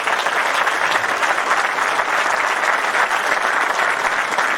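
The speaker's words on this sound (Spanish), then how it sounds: "Yo quiero un fuerte aplauso para todos ellos" Dense, sustained applause from a studio audience on a political talk program, loud and even throughout with no speech over it.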